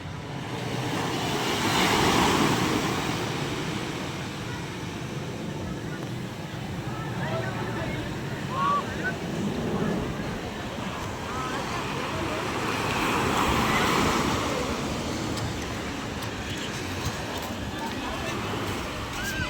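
Sea waves at the fish terminal in Tanza, Cavite, heard as a broad, rolling wash that swells and recedes twice, with distant harbor and traffic rumble and someone talking over it.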